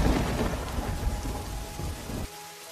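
Heavy rain pours with rolling thunder, a loud dense roar and low rumble that stays strong and then drops away near the end, with no voices.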